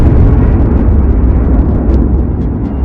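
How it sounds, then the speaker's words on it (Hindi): A giant explosion effect, a loud, deep, rumbling roar that fills the whole stretch at sustained full intensity without letup or fading. "बीच के इस भयंकर दबाव के कारण एक विशाल विस्फोट हुआ"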